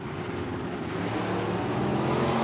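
Drag race cars with small block Chevy engines roar loudly and steadily at the strip, the engine note building slightly in strength across the short stretch with no talk over it.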